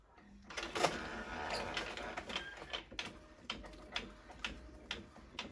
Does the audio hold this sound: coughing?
no